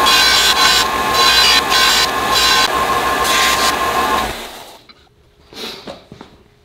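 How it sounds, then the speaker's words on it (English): A belt sander grinds a metal ramrod pipe tip with a loud, steady abrasive whine that pulses as the piece is pressed and lifted, then cuts off, leaving a few light handling knocks. "Belt sander, sorry."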